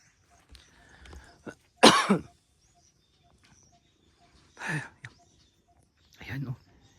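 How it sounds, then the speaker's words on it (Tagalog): Several separate harsh coughs, close by, spaced a few seconds apart, with one strong throaty cough followed by two lighter ones. "Inuubo ko."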